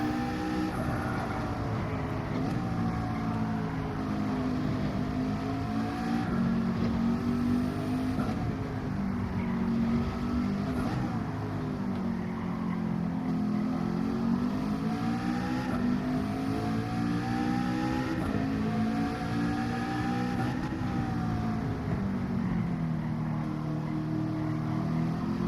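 Continuous engine drone of a Porsche race car in the Gran Turismo 7 video game during a Manufacturers Cup race at Grand Valley, its pitch steadily climbing and dropping through gear changes, loud and sustained with no talk.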